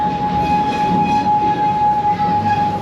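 Amusement park train ride at Busch Gardens, a loud steady rolling rumble of the cars on track with a sustained whistle-like tone running through the whole stretch.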